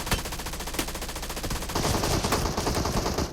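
Rapid automatic gunfire in the video game PUBG Mobile, a dense, loud stream of shots that continues without pause and grows a little heavier partway through.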